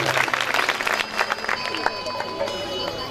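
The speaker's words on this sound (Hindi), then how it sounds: "ताली बजाकर स्वागत करो" An audience at a Hindu devotional festival claps in welcome, a brisk patter of hands that comes and goes under a voice speaking over it.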